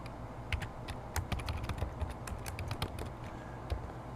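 A search is typed into a database on a computer keyboard: quick irregular key clicks, fairly faint and close, over a low hum. No speech.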